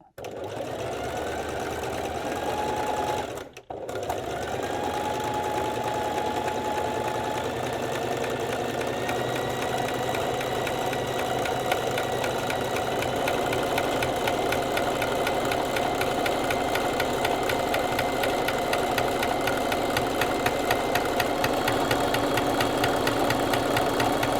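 A sewing machine runs continuously and loudly up close while stitching along a raw fabric edge, with a steady rapid mechanical whir and a brief dip near the start.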